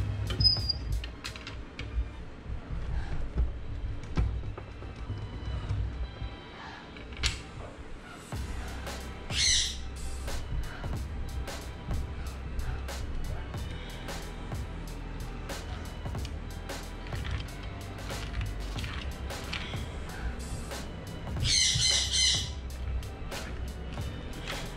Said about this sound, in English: You'll notice there's no more squawking birds from here on out.